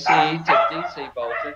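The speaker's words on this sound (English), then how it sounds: "Sorry about the dogs." Dogs barking at home, several sharp close barks and yips layered with someone speaking.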